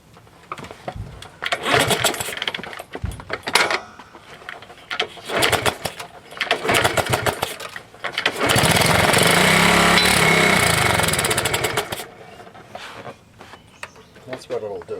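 A 1971 Honda CT70 small motorcycle engine catches and runs loudly for a few seconds before quitting, preceded by bursts of cranking and sputtering close by.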